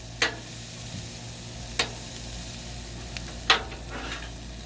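Cabbage and kielbasa sizzle steadily on a hot griddle, a soft continuous hiss broken by a few sharp clicks or scrapes.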